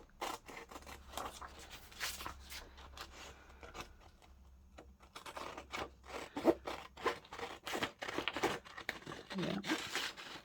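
Scissors snip and rustle through printed paper ephemera for a journal page, a run of close, crisp cuts with paper crinkling and rubbing, growing busier and louder in the second half.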